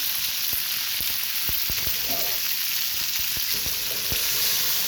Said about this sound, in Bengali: আমি এখন কেটে রাখা সবজিগুলো দিয়ে দিলাম ভেজে নেবো খুব সুন্দর করে